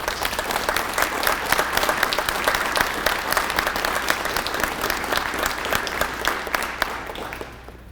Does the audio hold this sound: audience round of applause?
yes